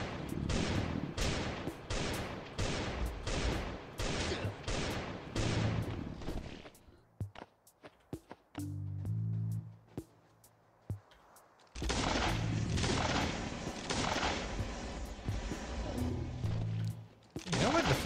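Flare gun shots in the survival game Last Day on Earth, a rapid run of loud sharp bangs, then a quieter stretch with scattered pops and low tones, followed by another dense burst of shots.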